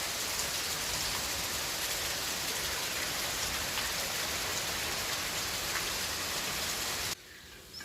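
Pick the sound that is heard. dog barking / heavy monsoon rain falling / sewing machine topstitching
heavy monsoon rain falling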